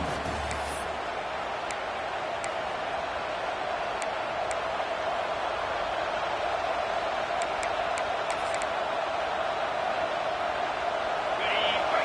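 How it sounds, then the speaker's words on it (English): Stadium crowd in a college football video game, a steady, full-throated roar that holds as a constant wash of noise from start to finish, with a few faint sharp clicks on top. "This crowd, full throat, spreading the eardrums and letting them know it's going to be a long day"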